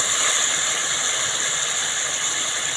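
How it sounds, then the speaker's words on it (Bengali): Pointed gourd fries in a spice paste with a steady, loud, even sizzling hiss that carries on without a break. "ভালো করে কষিয়ে নেব মশলা আর পটল"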